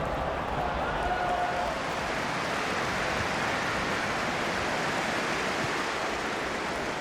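A stadium crowd in FIFA 18 during LA Galaxy against Sporting Kansas City roars in a steady, dense wash of cheering that holds at an even level throughout.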